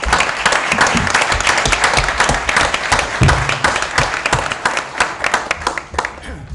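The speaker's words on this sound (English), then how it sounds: "round of applause to him" Audience at a Stacey Township school board meeting breaks into loud, dense applause for Mr. Decker, a steady crackle of many hands that holds strong, then becomes slightly patchier before fading near the end.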